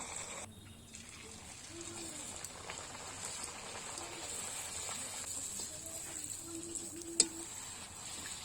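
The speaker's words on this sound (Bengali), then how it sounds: "এবার সবুজ রঙের লুচিগুলো ভেজে নেব।" Green-coloured luchi, a puffed flatbread, frying in hot oil: a soft, steady crackling hiss runs throughout, fairly quiet, with a single sharp click near the end.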